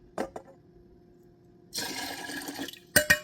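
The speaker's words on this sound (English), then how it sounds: "Already poured 3, and that was 4. 4 cups of distilled water." Distilled water is poured into a container for homemade bleach. After a couple of soft knocks comes a steady splashing pour lasting about a second, then a few sharp clunks at the end.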